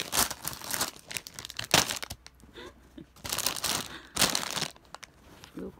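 Doritos being eaten from a bag, with loud, close crinkling of the bag and crunching in irregular bursts, and no talking.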